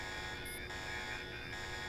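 A buzzing video-game alarm sounds steadily and fairly quietly for the whole stretch, a continuous electronic drone with a slight dip partway through, no voices over it.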